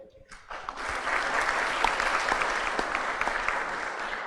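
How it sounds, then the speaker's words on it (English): An audience at a Sudanese international medical symposium breaks into dense, sustained applause after a brief quiet start; the crowd claps steadily and loudly until the end, with a faint voice briefly audible. "So a huge applaud to them."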